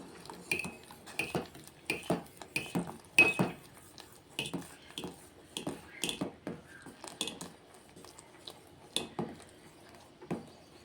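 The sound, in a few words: stirring sorghum flour into porridge in a pot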